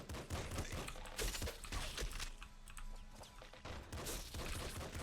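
Continuous gunfire in the video game Nuclear Throne, a dense fusillade of rapid shots and impacts that runs nearly unbroken throughout, loud and busy, with no talk.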